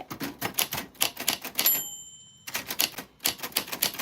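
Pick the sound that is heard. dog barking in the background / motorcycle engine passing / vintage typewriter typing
vintage typewriter typing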